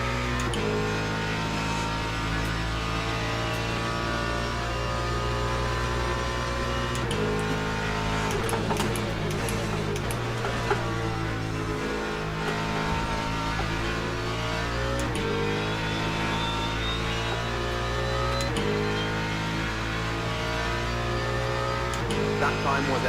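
Hypercars racing at Sebring during a WEC event roar past in a continuous loud stream of engine noise, with revving pitch sweeps as cars pass in succession, and a voice talking over them.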